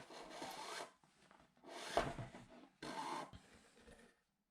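Close, quiet rasping pulls come in three separate strokes as thread is drawn through leather while a leather archery quiver is hand-stitched with a double back stitch.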